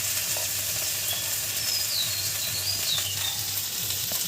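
Spices with salt, chili powder and cumin paste are stirred as they fry in a pan for a Gobindobhog rice biryani with pointed gourd and egg. A continuous bright sizzle plays alone, with soft scraping strokes now and then.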